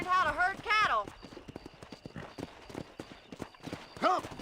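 Horse hooves clip-clopping in Red Dead Redemption, a brisk rhythmic clatter of hoofbeats running under speech that fills the start and end.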